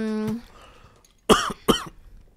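Two sharp coughs about a quarter second apart, close and loud, following a brief hum of voice at the start.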